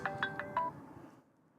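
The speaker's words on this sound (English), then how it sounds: "Why is that phone ringing?" A telephone rings in four quick electronic chirps at moderate volume, then falls quiet, heard indoors at a live airside broadcast from Melbourne Airport.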